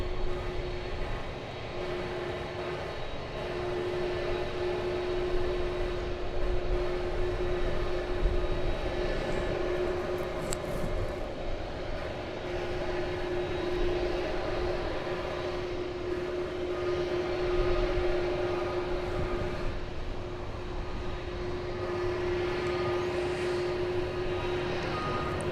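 Cargo airplane bound for the UPS Worldport, heard at night at DFW airport: a steady distant jet engine drone with a constant whining tone, moderate and unbroken, under faint background airport noise.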